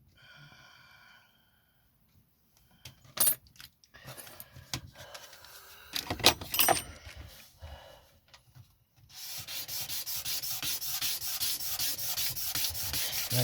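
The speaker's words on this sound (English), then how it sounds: "Scrape the last bit down." A blade scraping wood on a carved tiger head, with scattered short scrapes and taps followed by a steady close run of rapid rasping strokes.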